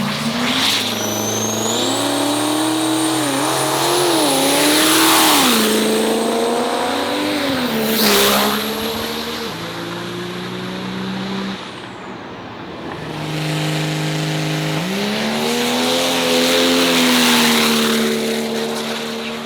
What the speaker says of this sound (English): So we got trucks going down for round 1 590.